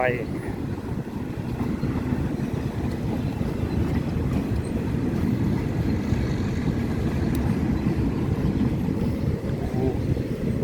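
A train rumbles past nearby, a continuous heavy low roar and rattle that stays loud throughout.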